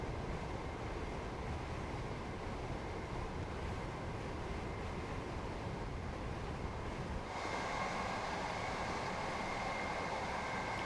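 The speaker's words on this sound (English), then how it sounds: "That's definitely a long train." A long train rumbles along in Train Sim World 3, a steady broad roar of wheels and motion that holds constant throughout, turning brighter and harsher partway through.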